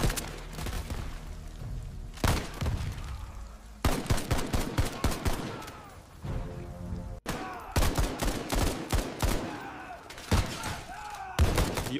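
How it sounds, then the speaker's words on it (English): AI-generated gunfight inside a building, made with Veo 3: rapid bursts of loud gunfire in clustered volleys with sharp cracks and thuds, separated by short pauses, with no talk. "I'll generate another gunfight inside the building using VO3 with this prompt and click generate"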